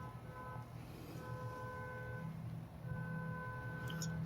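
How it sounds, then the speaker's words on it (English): Car horn honking repeatedly outdoors, somewhat distant and faint: three long blasts separated by short gaps over a low background rumble. "Somebody is honking their horn back there like crazy"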